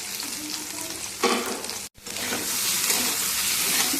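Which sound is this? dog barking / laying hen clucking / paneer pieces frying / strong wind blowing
paneer pieces frying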